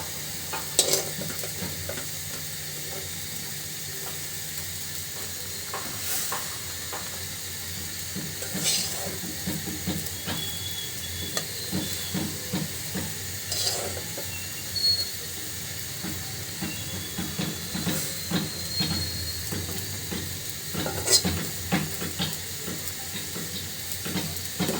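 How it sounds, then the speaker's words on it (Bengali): Fried fish going into a boiling fish curry broth with stirring, a low bubbling simmer under intermittent scraping and clinks of a spoon, with a soft sizzle throughout. "ঝোলটা ফুটে উঠেছে, তো দিয়ে দিচ্ছি ভেজে রাখা মাছগুলো।"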